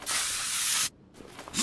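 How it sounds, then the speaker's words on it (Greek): Anti-rust spray on rusty bolts in Car Mechanic Simulator 2021, a loud close hiss that breaks off briefly and then returns in a softer short burst. "Όταν λοιπόν είναι έτσι σκουριασμένα τα μπουλόνια, πατάτε δεξί κλικ και βγάζει το σπρέι."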